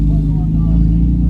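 An upgraded Porsche 911 Turbo S Targa revs loudly nearby at a cars and coffee meet, a deep droning engine tone filling the whole brief moment, with people talking over it.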